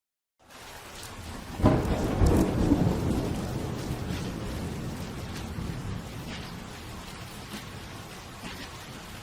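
Steady rain and rolling thunder fill the noir city of the Vaudeville video game: a deep thunderclap rumbles early on and fades slowly into a constant hiss of heavy rain on pavement.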